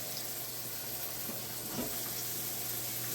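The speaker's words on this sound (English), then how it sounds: "So we're going to let that sear off real good." Lamb chops sear fat-side down in a hot pan, giving a soft, steady sizzling hiss at low volume throughout with no voices.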